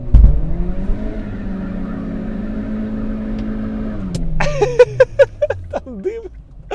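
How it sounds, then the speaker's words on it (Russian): Engine of a Hyundai Solaris, a former taxi car, held at a steady high rev for about four seconds while warming up the tires, then dropping off as people talk over a lower idle. "Греть будем резину, нет?"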